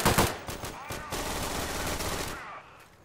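Gunshots in the World War II shooter game Day of Infamy: a quick burst of sharp, close rifle or machine-gun shots at the start, then scattered fainter reports over rumbling battle noise that fades out.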